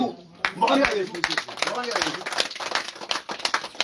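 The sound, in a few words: congregation clapping at a crusade rally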